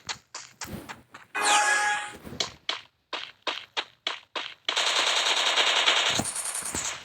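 Gunfire in a Garena shooting video game, a loud run of single sharp shots in uneven rhythm broken by two long sustained automatic bursts.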